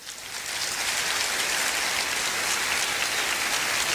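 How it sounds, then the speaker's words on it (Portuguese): Congregation in a church breaking into applause, a dense, steady wash of clapping that swells within the first half second and holds evenly throughout with no voices. "Dá um aplauso ao Senhor"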